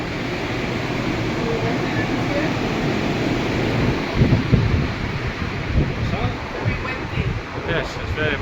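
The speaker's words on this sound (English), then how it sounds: "it's very windy because we're approaching the front of the ship" Strong wind buffets the open promenade deck of the P&O Arvia cruise ship at sea in the Bay of Biscay, a steady loud roar with heavier gusts toward the end, and voices are faintly present beneath it.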